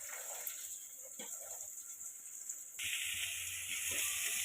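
Onions frying in hot oil in a pan, a steady, soft, airy sizzle that grows a little louder partway through, with no voices.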